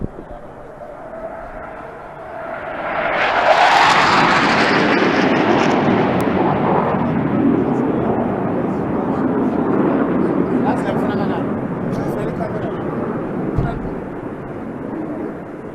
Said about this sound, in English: Embrace the sound of thunder from the north as Kane executes a steep turn.